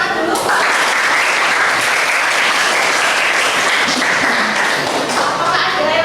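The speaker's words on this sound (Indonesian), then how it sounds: "Tepuk tangan dulu Pak" A classroom group applauds a winning team after a presentation, loud sustained clapping filling the whole stretch with no pause.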